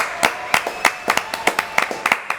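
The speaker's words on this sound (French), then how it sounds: "Applaudissements pour La Roche-Valmont." A handful of sharp, separate hand claps ring out at an irregular pace on the French television show Jacky lave plus propre, as a small group applauds with no voices over it.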